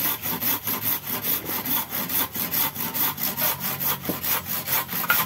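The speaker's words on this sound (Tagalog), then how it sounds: "Lagari ulit. Yan, dyan din ako nag-cut." A hand saw cutting through the tip of an animal horn in fast, even back-and-forth strokes, about four per second, close and alone.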